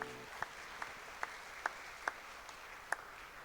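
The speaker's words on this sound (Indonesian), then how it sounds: "Tepuk tangan yang terbaik buat Tuhan Yesus." Claps from a church congregation during a Malay-language Sunday sermon, heard as evenly spaced, sharp single claps about twice a second, faint and somewhat distant in a quiet hall.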